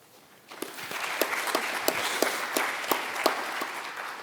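Applause at a nuclear energy summit youth day rises from quiet after half a second into a steady crowd patter, with a few sharp nearby claps standing out at a slow regular beat.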